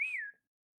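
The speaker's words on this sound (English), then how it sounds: "Who whistled?" A person gives a single short whistle, a clear tone that rises slightly and then slides down, close and isolated, followed by silence.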